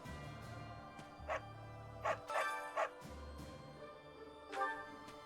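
Dog barking in Fire Emblem: Three Houses, several short yips and barks in an irregular run over soft, looping game music, fairly quiet.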